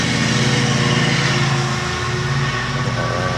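A steady, loud motorized drone from nearby landscaping equipment, probably a lawn mower, running without a break under an early-morning bike ride.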